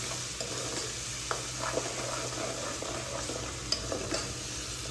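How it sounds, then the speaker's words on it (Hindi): Onions fry for aloo gobhi, a quiet steady sizzle in a pan punctuated by sharp little scrapes and clicks of a spoon stirring every second or so, with no talk. "थोड़ा सा इसे भूनेंगे, थोड़ा सा लाल करेंगे"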